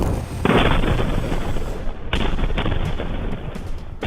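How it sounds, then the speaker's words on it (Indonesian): A loud series of explosions in the Al-Deir area of Basrah Province during conflict, several sharp blasts cutting in over a continuous rumbling roar. "Serangkaian ledakan terdengar di kawasan Al-Deir, Provinsi Basrah."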